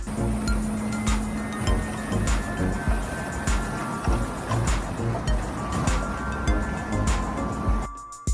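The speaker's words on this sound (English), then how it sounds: "A high-pressure surface cleaner blasts away the grime, revealing the bright, clean tiles underneath" A high-pressure surface cleaner blasts grime off outdoor pavement tiles, giving a loud, steady, rushing hiss of spray with faint clinks and rattles, cut off abruptly just before the end.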